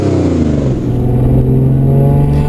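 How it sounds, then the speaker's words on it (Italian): An Alfa Romeo 156 GTA with a naturally aspirated 3.2-litre V6 revs loudly and close by, its engine note climbing and sustained with a smooth, rich tone and no voices over it. "3200 V6. Ebbene sì, eccola qua. V6 aspirato."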